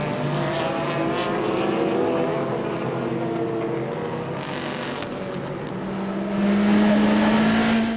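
Endurance race cars from the 2022 European Le Mans Series 4 Hours of Portimão roar past in a steady, loud blend of engine drone, with pitches sweeping as cars jostle and a higher engine note rising near the end.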